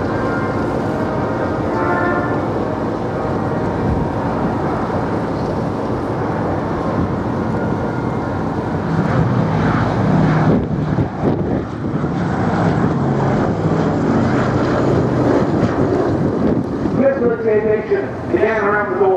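A Boeing B-17G Flying Fortress, a WWII four-engine propeller bomber, passes at the Royal International Air Tattoo air show, its steady engine drone swelling with wind noise while a commentator talks over the public address.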